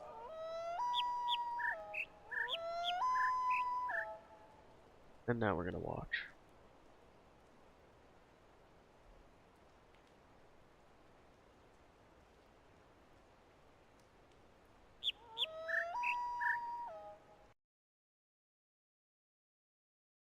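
Chirping bird calls sound in bursts of quick stepped tones in The Witness video game, two phrases near the start and one near the end, with a brief sharp noise between and a spoken line.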